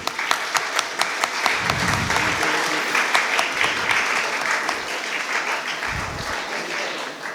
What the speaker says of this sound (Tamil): அவர்களை கைத்தட்டி நாம் வரவேற்போம்.